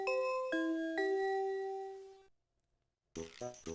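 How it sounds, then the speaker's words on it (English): A bell chimes in Mother 3, three clear ding-dong tones struck about half a second apart and ringing out together before fading, followed after a pause by a brief burst of game music. "Oh, Beanstalk Letter's bell is ringing."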